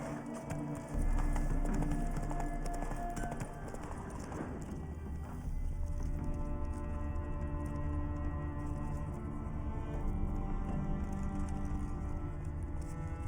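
Roach the horse clip-clopping in The Witcher 3, a steady run of hoofbeats over a continuous bed of game music and ambience, with a faint whinny-like texture near the start.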